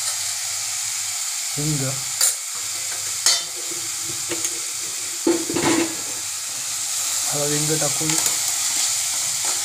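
Tomato, coriander and spices sautéing in hot oil for egg bhurji, a continuous sizzle with stirring scrapes and a few utensil knocks, while someone speaks over the cooking.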